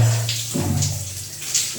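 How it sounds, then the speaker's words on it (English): A shower runs nearby, mixing hot water from a geyser with cold water fed straight from a tank, a loud continuous rushing spray that shifts slightly as the stream is moved. "one stream of hot water is coming from the geyser and another stream of cold water is coming directly from the tank"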